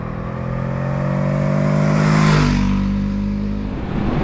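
A 2023 Honda CL500 motorcycle riding at speed: a steady engine drone that swells as it builds revs and then eases, wrapped in strong wind rush, close and loud with no talk.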